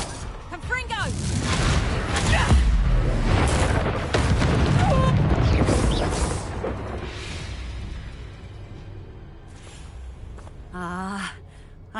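Spell blasts from the Confringo curse in a Harry Potter video game, a dense run of booming explosive impacts under shouted dialogue, followed by quieter game ambience and a brief magical whoosh near the end.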